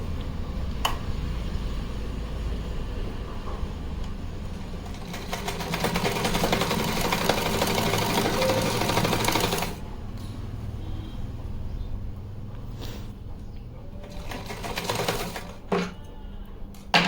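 A sewing machine runs steadily, stitching flared skirt panels together for a small festive deity dress, with continuous mechanical whirring that pauses briefly near the end between short bursts.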